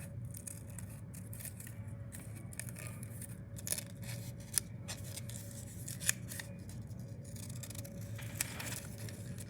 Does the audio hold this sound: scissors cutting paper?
yes